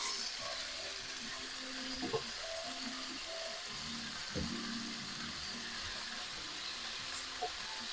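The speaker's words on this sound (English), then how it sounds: "try and turn each piece over if you can, so that every piece gets a sizzle" Continuous sizzle of lamb pieces browning in a pan, with occasional clinks and scrapes as pieces are turned, fairly quiet and without speech.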